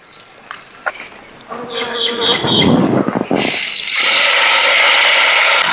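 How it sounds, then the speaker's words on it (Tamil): Marinated Ambur-style chicken 65 pieces dropped by hand into hot oil, breaking into a loud, steady, hissing sizzle that fills the second half after a few quieter handling sounds. "இப்போ நாங்கள் இப்படி மிக்ஸ் பண்ணி எடுத்து அப்படியே எண்ணெயில் போட்டுருவோம்"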